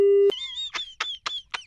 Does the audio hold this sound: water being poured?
no